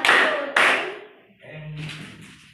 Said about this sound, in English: Give Micah three claps.